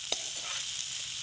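Brinjal sizzling in a pan with turmeric, a steady bright hiss of frying with a single clink of stirring near the start.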